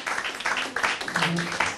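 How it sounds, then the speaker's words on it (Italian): Applause from an audience at a youth football team presentation in Rimini greets a player, a steady patter of many hands with a few voices calling out beneath it. "voglio un grande applauso per Vincenzo Mistretta"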